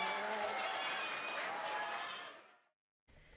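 Dense, steady applause from the crowd at an SG Derby kyotei boat race after a winner interview, filling the space for over two seconds before fading out abruptly, then a fainter room murmur returning.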